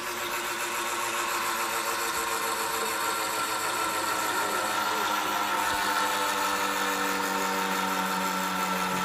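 A homopolar generator with a 2-inch spinning magnet winds down, giving a loud, steady mechanical whirring and buzzing drone with a slowly shifting pitch that continues without a break, with no voice over it.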